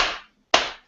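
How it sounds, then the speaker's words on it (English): Two sharp hand claps, about half a second apart, close and loud with brief ringing after each, in a quiet room at a meditation session before walking practice. "I'll just clap my hands twice."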